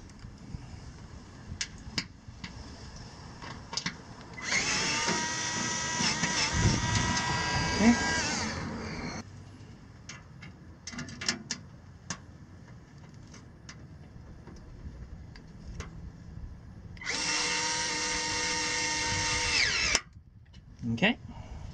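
A power tool removes the security bit on a 2G Toyota Prius, whirring in two sustained bursts of several seconds each, separated by clicks and handling noises, with someone talking intermittently.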